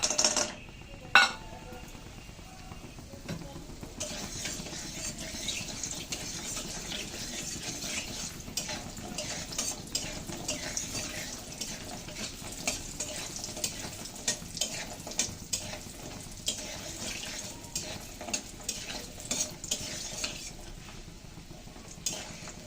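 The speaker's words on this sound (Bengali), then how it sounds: "এখন আমি ডালের বড়িগুলো প্রথমে লালচে করে ভেজে নেব।" Lentil dumplings frying in hot oil, a soft continuous sizzle with light stirring scrapes and occasional clinks throughout.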